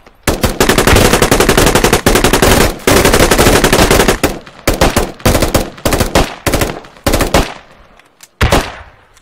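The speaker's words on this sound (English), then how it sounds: "Keep firing. Suppressive fire." Machine gun laying down suppressive fire in the video game Squad on the Logar Valley map, long loud sustained bursts of rapid shots, then shorter broken bursts trailing off at the end.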